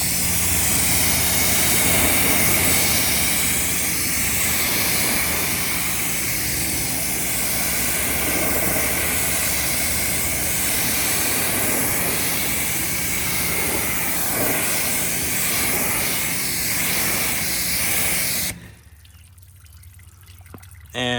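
A water rinse sprays over a car's coated test panels in a loud, steady hiss and splatter lasting most of the stretch, then cuts off abruptly, leaving near quiet.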